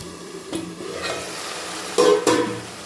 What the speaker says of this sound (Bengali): চিকেন কিমাটা নাড়িয়ে নিতে হবে